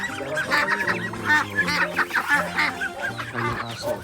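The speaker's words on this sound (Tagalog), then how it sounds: "Ayan pala yung mga alagang pato ni Papa guys." Pet ducks on a Filipino family farm honk and quack in a busy overlapping chorus, steady and fairly close, with many birds calling at once and no talk.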